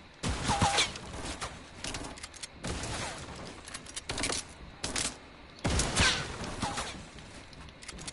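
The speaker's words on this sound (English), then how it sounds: "Firing a burst of the assault rifle." An assault rifle fires in short bursts in a video game, sharp crackling volleys repeating several times close up, with chirping bird-like game sounds in between.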